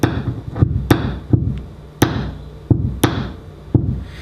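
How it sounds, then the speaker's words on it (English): A screwdriver tapped against a humbucker guitar pickup gives a series of about eight sharp, loud knocks at an irregular pace, each one a hard click with a brief resonant ring, heard close and alone. "you still get quite a loud sound from this one, and that's again because the screwdriver is just coming to an abrupt stop within this field, magnetic field."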